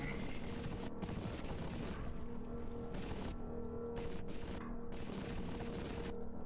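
Submachine gun fire in the 90s-style FPS Zortch, a dense stream of rapid shots running through the whole stretch over constant game noise, fairly loud and close.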